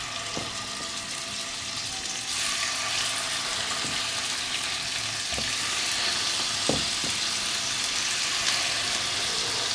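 Chicken pieces frying in a pan for chicken pulao, a steady close sizzle with occasional stirring scrapes and clinks throughout, no talking.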